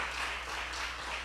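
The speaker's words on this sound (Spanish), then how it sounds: "dense un fuerte aplauso" A church congregation applauds during a sermon, with a soft, even wash of many hands clapping at a distance and a low hum beneath it.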